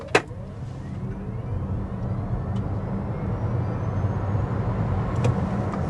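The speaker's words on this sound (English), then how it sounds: "You get that instant acceleration right when you put your foot down on the throttle" A 2026 Toyota C-HR SE crossover accelerates hard, its engine note rising steadily from inside the cabin after a short click at the start, moderately loud and without talk.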